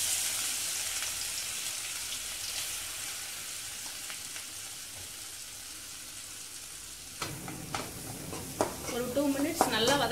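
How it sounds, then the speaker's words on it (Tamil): Ground masala paste sautéing in leftover oil for a tuber curry, a soft steady sizzle that grows louder and busier near the end with stirring scrapes and pops, no voices. "ஒரு 2 மினிட்ஸ் நல்லா வதக்குங்க, அப்போதான் பச்சை வாசனை போகும்"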